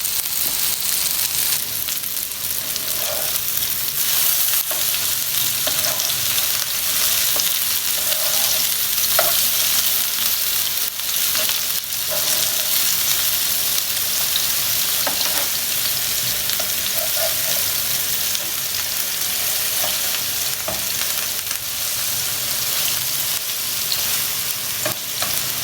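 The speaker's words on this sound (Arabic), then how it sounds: "هقلبها دلوقتي بقى ونشوف ايه اتحمرت ولا ايه اللي حصل" Dough fries steadily in a pan with a dense, continuous sizzle that holds loud and even throughout, with faint scraping as the piece is turned over.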